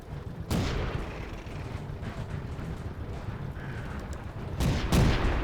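Tank gun shots in World of Tanks, fired from a Renault FT light tank: two sharp booming blasts, one near the start and one near the end, over a steady rumble of engine and battle noise.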